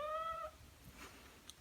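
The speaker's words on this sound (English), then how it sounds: "Sorry, that was my cat." A domestic cat gives a single short meow, clear but faint, in a quiet indoor room, followed by faint background noises.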